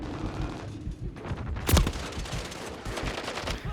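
Gunfire in the video game Call of Duty Modern Warfare 3: rapid bursts of shots with one sharp, loud blast near the middle, over continuous battle noise and no clear speech.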